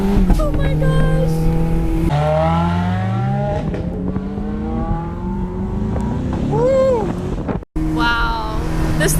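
A Ferrari 430 sports car engine screams through rising revs as it accelerates in repeated gear pulls, loud and close, with wind noise and people exclaiming over it.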